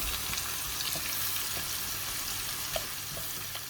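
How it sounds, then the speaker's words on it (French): Flour tipped all at once into hot fat in a pan off the heat and stirred into a roux for courgette tuna lasagne: soft continuous sizzle with light scraping strokes and small taps, no talking. "Et d'un seul coup, la farine. Alors, on mélange bien."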